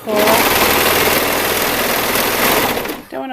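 A serger sewing machine runs fast and steadily while stitching elastic into a gown's V neckline, a close, loud, continuous mechanical whir that slows and stops at the end.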